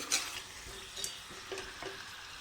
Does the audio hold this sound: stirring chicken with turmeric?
yes